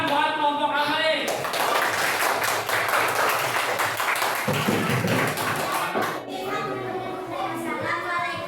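A classroom group is applauded as it comes forward to present, with a dense wash of clapping filling most of the clip and children's voices before and after.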